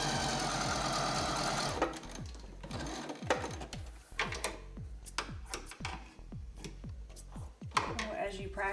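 A sewing machine bastes a fabric checkbook cover, opening with a continuous fast whir and then breaking into short, rhythmic bursts of stitching with pauses between them, close and moderately loud.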